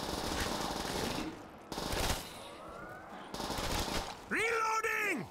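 Rapid bursts of PPSh submachine gun fire in Black Ops 3 Custom Zombies, loud, dense rattling volleys broken by short gaps, ending with a warbling, wavering tone.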